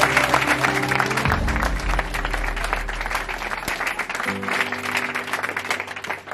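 A room full of guests at a wedding ceremony claps loudly and continuously for the newlyweds, a dense, sustained round of applause with some voices underneath.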